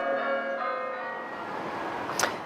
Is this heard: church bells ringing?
yes